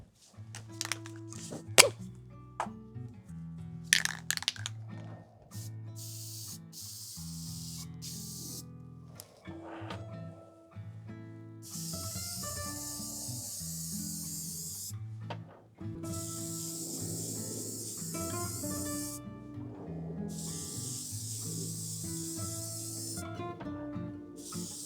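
A spray can of primer hisses out in repeated bursts, some short and some held for several seconds, close and fairly quiet, with occasional thunks and handling noises between sprays.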